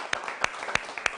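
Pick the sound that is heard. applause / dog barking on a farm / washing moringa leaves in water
applause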